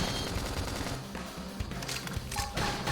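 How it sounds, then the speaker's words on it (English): Fire spell cast during combat in Xenoblade Chronicles X, heard as a dense, loud crackling burst of rapid impacts that keeps going throughout, with a brief bright tone near the end. "so I can use the fire spell"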